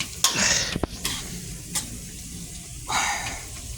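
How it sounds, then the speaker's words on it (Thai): Minced pork with holy basil stir-fried in a pan, a close sizzle broken by a few sharp scraping strokes of the spatula. "นี่ครับผัดไปเรื่อยๆเลยนะครับ"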